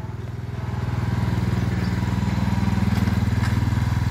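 A scooter engine runs steadily with a fast, regular pulsing throb that swells slightly in loudness as it is revved, close and alone with no talk.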